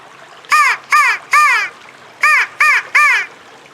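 A handheld crow call imitates harsh crow caws, close and loud: two bursts of three caws separated by a short pause.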